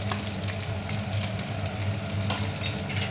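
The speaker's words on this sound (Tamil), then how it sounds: "போட்டு கொஞ்சம் லைட்டாக வதக்கிறோம். பூண்டு வந்து கொஞ்சம் வதங்கட்டும்." Garlic and curry leaves frying in oil for chicken pickle, a steady, loud, close sizzle that holds throughout with faint stirring and no talk.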